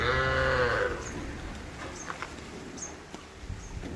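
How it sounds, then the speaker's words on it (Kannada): Sheep and lambs in a farm shed give a bleat at the start, followed by quieter shuffling, thumps and faint chirps in the background, fairly distant and soft. "ಒಳ್ಳೆ ಪಟ್ಲಿ ಮರಿ ಇದ್ದಾವೆ"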